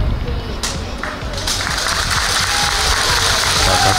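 Parents clap from the sidelines at a middle school youth football match in Gangdong, a steady outdoor patter of applause mixed with wind and field noise under a commentator's talk.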